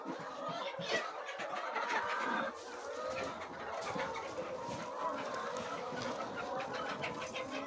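Laying hens cluck and murmur in a close, busy chorus, with scattered squawks and soft background noise.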